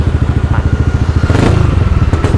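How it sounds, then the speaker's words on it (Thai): A 2019 Yamaha XMAX300 scooter with its stock exhaust pipe revs close by, with a loud, steady pulsing engine note that swells as the throttle is blipped. "แล้วมาฟังเสียงท่อเดิมคันนี้กัน"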